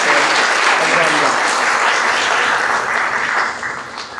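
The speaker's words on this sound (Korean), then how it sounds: "박수 한번 힘차게 쳐주시기를 바랍니다" Loud, dense applause from an audience at a book concert, steady throughout and then fading slightly at the end.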